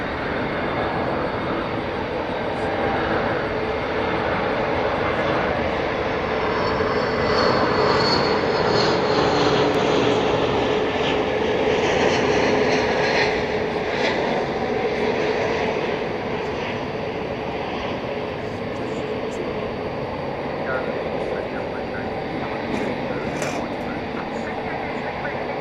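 Airliner jet engines rumble and whine at DFW Airport at night, a loud sustained roar that swells and slowly fades across the whole stretch, with a person talking faintly beneath it.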